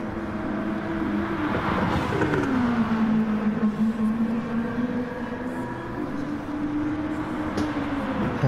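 Race car engines from GT Sport's Super GT GT500 class, two cars battling for position, whining loudly and steadily with pitch sweeping down then holding and rising as they shift and accelerate, continuous throughout.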